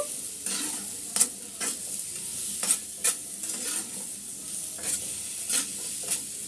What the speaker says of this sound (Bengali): এখন মিষ্টি কুমড়াটা আমি ভালো করে একটু তেলের সাথে সেদ্ধ করে নেব